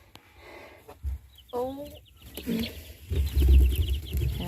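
Newly hatched chicks in a brooder give a scatter of high, thin peeps, with a short run of chirps in the middle, while a person talks nearby and handles the brooder.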